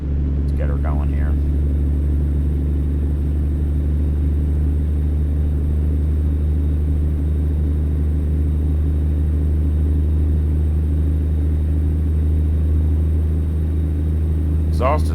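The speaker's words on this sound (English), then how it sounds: "Exhaust is fairly loud in this truck." Freightliner Cascadia semi truck in American Truck Simulator, its engine and exhaust droning loud and steady with a deep low rumble throughout, brief voice fragments at the start and end.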